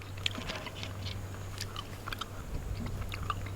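Someone chews caffeinated mint gum, soft wet smacking and biting sounds repeating steadily and close up over a low steady hum.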